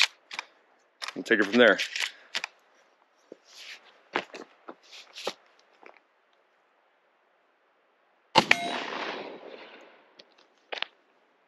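Mossberg 930 shotgun firing 2 3/4-inch 9-pellet double-ought buckshot: one sharp, loud blast with a short decaying tail near the end, with someone talking beforehand and some handling clicks.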